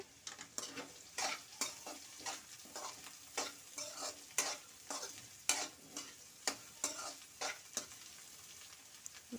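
Bitter gourd pieces roasting in oil in a pan, a soft continuous sizzle punctuated by regular, close scraping strokes of a spatula stirring them, steady rhythm and no voices.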